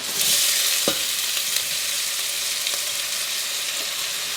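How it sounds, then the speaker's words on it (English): Onion and garlic fry with spices in a hot pan for chicken vindaloo, giving a steady, close, crackling sizzle. Faint clicks of stirring sound throughout. "And then now I'm gonna add onion here,"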